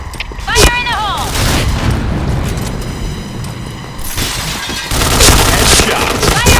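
Loud bursts of gunfire and heavy booms from grenade blasts in the shooter game Point Blank, mixed with chirping electronic game effects, one dense salvo after another.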